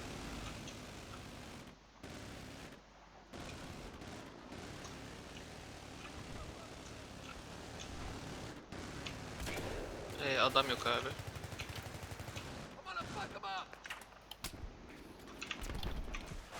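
Gunfire in a Battlefield 3 battle, with repeated bursts of automatic shots and heavier blasts rising and falling over a constant combat rumble, while someone speaks briefly.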